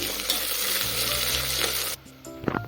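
Mutton frying in a pan with coriander and mint, a loud close sizzle that cuts off abruptly, followed by softer clinks and stirring.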